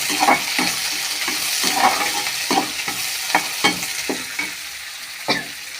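Onion fries in a pan for a cluster bean poriyal, a steady loud sizzle under a regular rhythm of scraping stirring strokes, close up with no voices.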